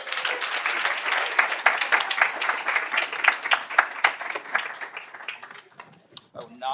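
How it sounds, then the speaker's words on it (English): An audience at a school board meeting gives a round of applause, with dense, steady clapping through most of the stretch that thins out and tapers near the end. "Please, a nice round of applause."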